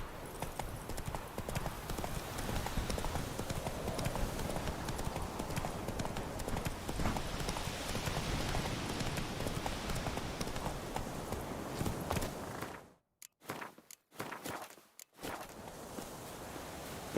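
Horse hooves galloping in the fantasy role-playing game The Witcher 3: Wild Hunt, a dense, fast clatter of hoofbeats throughout, with the sound cutting out in a few brief gaps near the end.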